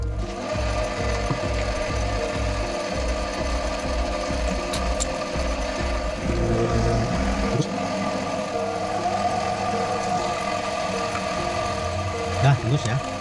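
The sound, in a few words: drilling 8 mm hole through valve head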